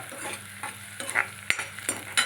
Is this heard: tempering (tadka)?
yes